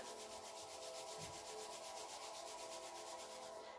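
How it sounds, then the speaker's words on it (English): Palms rub briskly together during a yoga warm-up, making a steady, continuous close-up swishing friction that stays even and unbroken throughout, with no talking. "just begin by rubbing the hands together, generating a little bit of heat in the body"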